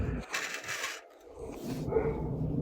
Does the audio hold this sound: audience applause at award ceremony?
no